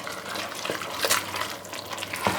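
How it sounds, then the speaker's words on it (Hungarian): Tomato juice sauce being stirred in a pot while cooking lasagne, giving a steady, close wet sloshing and swishing of liquid with a few louder splashy strokes and no talking. "Ezt én most elkavarom."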